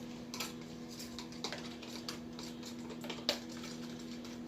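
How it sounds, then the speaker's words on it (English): Utensil beating two eggs for an omelet in a bowl, giving quiet, irregular light clinks and taps against the dish over a soft steady background, with no talking. "What I'm going to do is I'm going to stir my omelet up."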